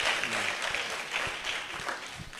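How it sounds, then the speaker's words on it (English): An audience at a restaurant co-founder chat applauds, a dense steady patter of many hands clapping at moderate volume for a couple of seconds. "let's give that a round of applause"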